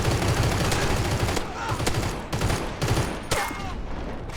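Rapid bursts of gunfire in the shooter game CrossfireX during a multiplayer match, loud repeated shots crackling in clusters with brief gaps between volleys.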